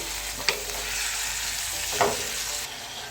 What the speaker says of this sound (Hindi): कीमे को हमने चंद मिनट के लिए यानी 2-3 मिनट के लिए इसके साथ हमने अच्छे से ब्राउन करना है